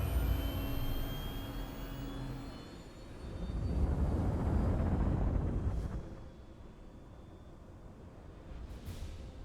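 Spacecraft in Star Citizen, an Anvil Aerospace ship, lifting off and flying away: a broad jet-like engine roar that rises to a loud peak mid-way, then thins to a steady hum with faint whooshes.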